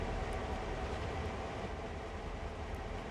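A CSX heavy-haul freight train running in Train Sim World, a dense steady rumble with rolling wheel noise and faint rail clatter, loud and continuous with no talking.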